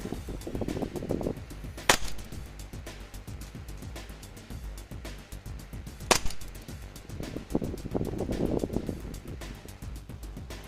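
An Armorer Works NE3003 1911 Tribe gas airsoft pistol, running Puff Dino White gas and 0.2 g BBs, fires two snappy shots about four seconds apart through a chronograph, over busy clicking and rustling handling noise.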